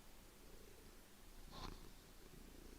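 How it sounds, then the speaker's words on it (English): A male cat dozing on a couch purrs in a low, steady rumble that runs continuously at close range, with a brief louder scratchy burst near the middle and no talking. "Ooh, he's purring."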